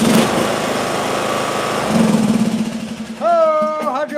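A small engine idles close by with a steady, buzzing putter that roughens midway, then a voice speaks over the running engine near the end.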